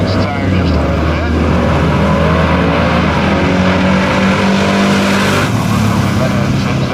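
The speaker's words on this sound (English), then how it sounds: "Spins the tire just a little bit." An old-style 4x4 pickup with manual locking hubs spins a tire at a Race Wars car show, producing a loud, continuous engine roar up close with voices mixed in.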